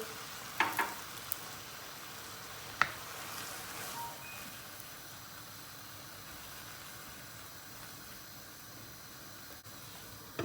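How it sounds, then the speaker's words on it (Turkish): Water poured over frying eggplants in a pan brings a few sharp splashy bursts early, then a long, even, quieter sizzle that holds to the end. "Patlıcanları bir karıştırıyoruz. İçine bir su bardağı su boşaltıyoruz."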